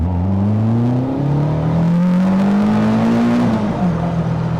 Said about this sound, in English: We are going to cruise now at, let's say, 20 miles an hour right now, second gear.